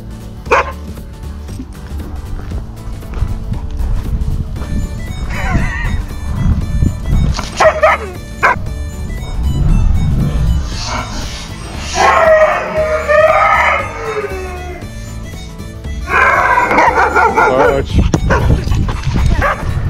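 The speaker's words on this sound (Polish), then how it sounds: "A kto tu na nas szczeka?" A dog barks and yips in several bursts, fairly close, with a person talking in between and over the barking.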